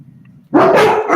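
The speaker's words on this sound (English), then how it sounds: "There goes the barking." Dog barking indoors during a rescue-animal show, one loud sharp bark burst breaking out suddenly after a quiet low murmur, close and harsh.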